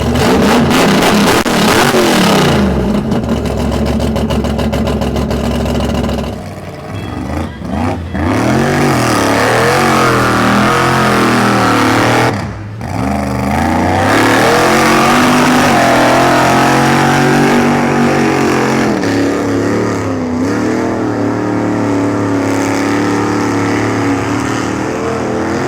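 A supercharged big block truck engine revs hard and loud while bogging through mud, roaring steadily with repeated throttle surges, pitch swings and brief dips over about twenty-five seconds, close up and with no talk.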